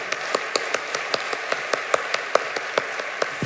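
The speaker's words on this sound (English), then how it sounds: "Thank you for giving yourselves a round of applause" An audience at an AI summit plenary claps in unison, a steady rhythmic beat of joint hand claps, about five or six per second, filling the room and fairly loud, with no talk over it.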